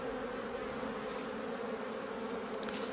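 Honeybees buzzing steadily at an opened hive during a spring inspection, a dense, continuous close-up drone with no talk over it.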